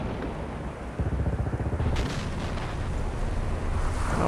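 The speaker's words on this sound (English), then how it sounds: "Alright, artillery's kicking up." Artillery fire in Men of War: Assault Squad during a WWII invasion battle: a sudden heavy boom is followed by a rapid series of rumbling thuds and distant blasts that roll on under steady battlefield noise.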